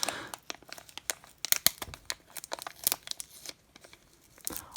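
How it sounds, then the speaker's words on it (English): Packing tape is pulled and ripped off a cardboard box at close range, making a rapid run of crinkly tearing and crackling bursts with short pauses between pulls. "we can actually just simply pull the tape out and start ripping it"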